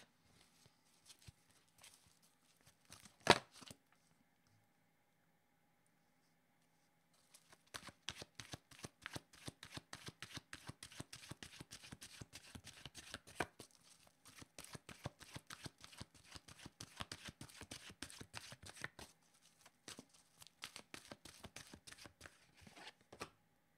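Oracle cards being shuffled by hand, a long run of quick, dense riffling flutters with a brief pause and a few isolated taps near the start, close and fairly quiet with no talking.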